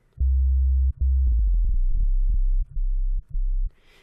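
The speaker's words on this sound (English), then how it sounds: "because sub basses are basically created of sine waves" Low sine-wave sub bass synthesizer notes play as deep, smooth sustained tones, several notes held in turn with short gaps and a few brief clicks, loud and alone.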